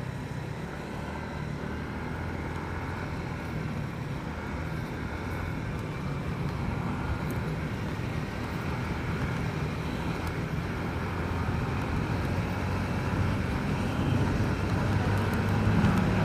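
Three motorcycles cruising together along the DC Marilaque mountain road, heard as a steady, loud engine and road rumble with wind noise that builds slightly toward the end.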